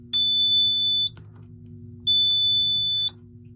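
A Fire-Lite MS5024 fire alarm control panel sounds two loud, steady electronic tones, each about a second long with a pause between, close by and with no voices.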